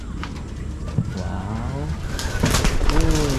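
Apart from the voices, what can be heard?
pigeons cooing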